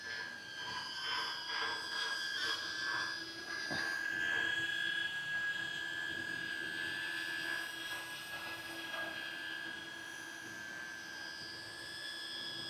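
A DJI Neo drone fitted with Gemfan D51-5 propellers hovers and flies nearby, giving off a steady, fairly loud high-pitched whirring whine that holds throughout with slight pitch wobbles.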